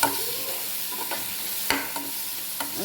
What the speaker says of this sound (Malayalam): മുളക് കൂടി നന്നായിട്ട് വഴറ്റിയെടുക്കുക